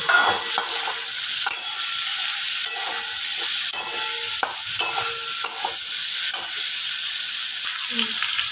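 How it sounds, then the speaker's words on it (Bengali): Okra (bhindi) sizzles steadily in a hot pan with a little sugar as a spoon stirs it, scraping clicks repeating every second or so over a constant bright frying hiss, close and loud. "এবার আমি এটাকে একটু ভালো করে নাড়াচাড়া করে নেব"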